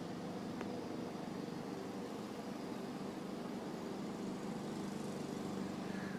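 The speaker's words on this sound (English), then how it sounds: "That's the mower in the park I'm sitting in." Lawn mower running in a park, a steady distant engine drone that stays faint and even throughout with no pauses.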